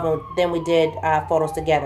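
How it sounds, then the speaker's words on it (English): A wailing emergency vehicle siren near a hospital, rising and falling under a close voice talking throughout. "Sorry for the sirens, we're close to a hospital"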